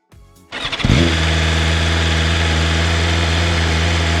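A BMW M 1000 RR sport motorcycle fires up after a brief crank, its engine catching within a second and settling into a loud, steady, close-up idle with a deep throbbing rumble for the rest of the clip.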